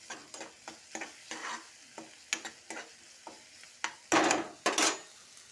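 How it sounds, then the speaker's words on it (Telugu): A spoon stirs egg curry with turmeric in a hot pan, making a string of scraping strokes over a soft sizzle and ending in two louder, rougher scrapes. "కొంచెం పసుపు వేసుకుని బాగా కలుపుకోవాలి."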